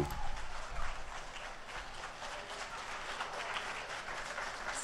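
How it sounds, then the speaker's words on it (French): Audience at a political event applauding, a steady wash of many hands clapping heard faintly and at a distance. "tu as le public qui est naturellement gauchiste qui applaudit"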